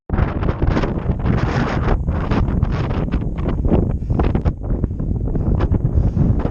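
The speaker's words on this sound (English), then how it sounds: "the wind's picking up as well" Strong wind buffets the microphone on an exposed snowy hillside with boggy ground, a loud continuous roar with gusty surges and no voices.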